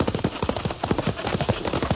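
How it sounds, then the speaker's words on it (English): A wagon team of horses clops along in an old-time western radio drama, with fast, overlapping hoofbeats in a continuous rolling rhythm at close range. "All right, alongside that wheel horse, Thunder."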